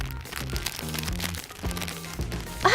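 Cellophane wrap tucked inside slippers crackles and crinkles in quick irregular bursts with each step, close and fairly quiet, over a soft background of music.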